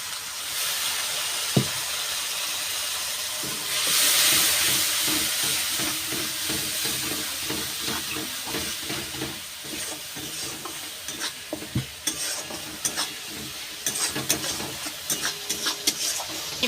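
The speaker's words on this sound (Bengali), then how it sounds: "মশলাটা যাতে পুড়ে না যায় তার জন্য অল্প জল দিয়ে দেব" Spices with chili powder and turmeric sizzle and hiss loudly in a pan for egg biryani as water is added, with steady frying crackle and scraping stirring strokes continuing throughout.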